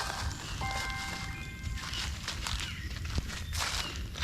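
Footsteps tread over dry fallen leaves in a forest, a series of crunching, rustling steps at an uneven walking pace, close and fairly faint, with faint bird chirps in the background.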